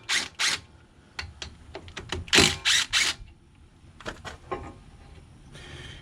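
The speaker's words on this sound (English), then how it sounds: "Now we're going to take the caliper bolts out." Ratchet loosening and pulling the front brake caliper bolts on a 2012 Jeep Patriot, heard as a series of sharp metallic clicks and short ratcheting bursts, close and clear with no talking.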